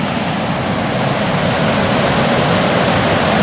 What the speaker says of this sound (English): I am just amazed at the speed of that water.